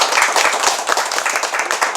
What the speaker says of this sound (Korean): 우리 박수 한번 크게 쳐드자